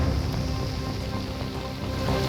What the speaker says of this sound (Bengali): বৃষ্টি কিন্তু চলছিল